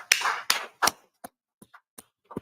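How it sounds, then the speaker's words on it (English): Several hand claps from a live talk-show panel, the first three close together and loud, followed by a few fainter, sparser claps trailing off. "Clap it up, all right?"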